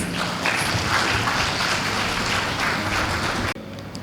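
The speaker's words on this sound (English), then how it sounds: "let's all welcome Darryl on stage with a big applause" Loud, dense applause from a summit audience welcoming a speaker on stage, a sustained wash of many hands clapping for about three and a half seconds before cutting off abruptly.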